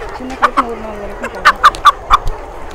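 A large, roughly 40-day-old chicken fitted with a nose clip clucks in a quick run of sharp, loud clucks close by, over a low background murmur.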